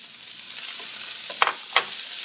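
Diced peppers, corn and boiled lima beans are stirred in a hot pan, a soft steady sizzle broken by two or three sharp scraping clicks of the spoon.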